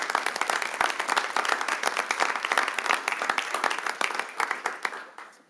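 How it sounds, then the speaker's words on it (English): Applause at a city council meeting: steady, dense clapping from a room of people fills the whole stretch, fairly close and even, tapering slightly at the very end. "one more big round of applause for these young men."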